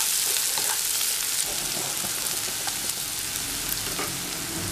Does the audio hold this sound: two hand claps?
no